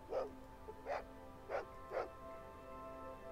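A dog barks as a sound effect in the video game Fallout 2, four short, evenly spaced barks over a faint steady background hum, moderately quiet and alone.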